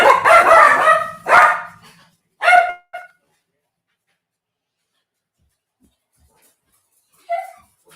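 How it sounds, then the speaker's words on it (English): Dogs barking in a home, loud and close: a run of rapid barks over the first few seconds, a couple of short bursts, a long quiet gap, then one more bark near the end. "Sorry for the dogs barking."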